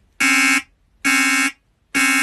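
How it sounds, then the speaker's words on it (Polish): A fire alarm blares in three loud, identical electronic beeps, each about half a second long, with short silent gaps between them. "Alarm pożarowy."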